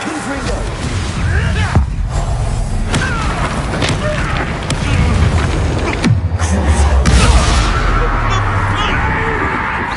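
A Confringo spell bursts into a fiery explosion in a fantasy video game, with loud booming blasts and thuds amid clattering effects, creature cries and voices throughout.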